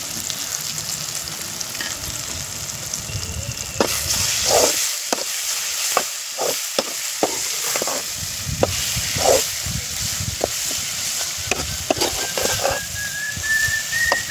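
Crushed garlic and cumin, pounded on a grinding stone, frying in a pan for sundaikai thokku, a steady sizzle with sharp clinks of a spoon against the pan, plus a faint whistling tone near the end.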